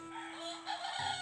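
A chicken in a rural Bisaya setting gives a short, loud burst of clucking and crowing-like calls lasting about a second, close by with no talk over it.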